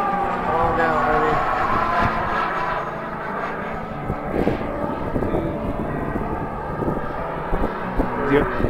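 Remote-controlled model jet flying overhead and coming in to land at an outdoor RC jet meet, a steady whooshing turbine roar with wind buffeting, while people talk nearby.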